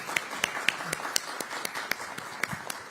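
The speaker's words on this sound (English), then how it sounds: "Let's have a very big round of applause for this." Audience applause at a live financial summit on stage, a brief burst of scattered, uneven clapping with sharp individual claps over a soft hall background, moderately distant and fairly light, with no talking over it.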